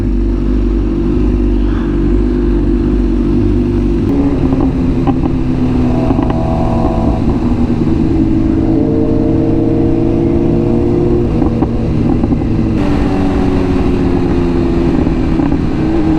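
A BMW S1000RR motorcycle with a loud custom full exhaust drones steadily throughout, its pitch rising and falling as the throttle is worked, loud and close with a coarse, throaty exhaust note.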